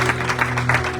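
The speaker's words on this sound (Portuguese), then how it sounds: "Você pode dar uma grande salva de palmas" A church congregation gives a big round of applause during a worship service, a steady wash of clapping lasting about a second, with a low sustained hum running beneath it.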